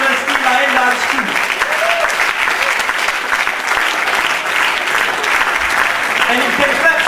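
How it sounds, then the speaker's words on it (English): Audience applause at a Cambridge Malaysia Night lion dance show, dense continuous clapping from a large crowd, loud and sustained, with a voice speaking over it at times. "And you can clap some more"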